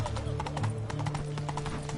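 Horse hooves clip-clop in The Witcher 3, a quick string of evenly spaced hoofbeats over a low game background hum.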